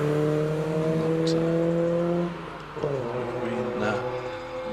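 A 1840cc Mazda MX-5 accelerates at Prescott hill climb with a steady, buzzing engine note that dips briefly as it shifts and then pulls again at moderate distance.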